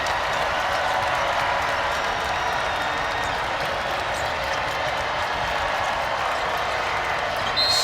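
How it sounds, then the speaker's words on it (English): A basketball arena crowd at Hilton Coliseum keeps up a steady, loud roar with scattered cheering throughout, a dense wash of noise with no clear voice on top. "The crowd gets a little louder here at Hilton."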